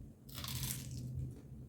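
A single loud crunchy bite into fried tempeh, crisp crackling lasting about a second, close to the listener with no talking.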